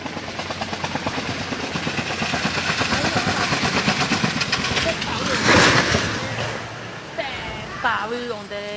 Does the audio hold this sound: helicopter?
yes